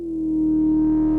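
A synth bass note in Ableton run through an amp with boosted presence, one loud sustained low tone lasting about a second, steady and close with added high-end edge.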